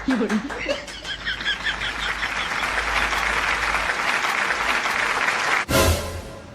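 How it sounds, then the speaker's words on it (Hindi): Steady applause from a group clapping together in a comedy skit set in a jail, dense and continuous for several seconds before ending with a sharp thump. "तू ताली क्यों नहीं मार रहा है रे?"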